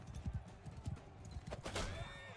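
Hooves of a galloping horse in the medieval combat game South of the Wall, rhythmic clip-clop beats at moderate distance, with a louder clash of other game sounds partway through.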